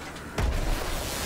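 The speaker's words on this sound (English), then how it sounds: "Grenade." Grenade explosion in Call of Duty WW2 Zombies, a single loud boom with a low rumbling tail that fades out over about a second of game background.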